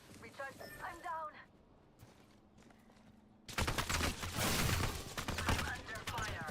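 Bursts of rapid video game gunfire crackle in a dense, loud volley after a quieter stretch, with a voice talking over the earlier part.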